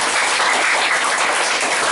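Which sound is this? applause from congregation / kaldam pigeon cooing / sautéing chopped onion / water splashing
applause from congregation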